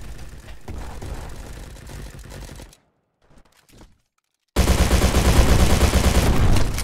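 Rapid automatic gunfire from a favorite weapon in the Roblox-style shooter Bad Business, loud and dense, first a burst, then a brief near-silent pause, then a sustained, louder stream of firing to the end.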